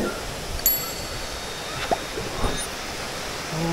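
Steady rushing water noise of the Sumuran waterfall, broad and constant, with a few faint ringing clicks over it.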